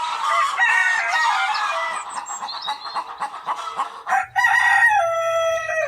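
A rooster crows loudly next door, followed by steady clucking from a few chickens and another shrill crow near the end, all close and with no talk over it.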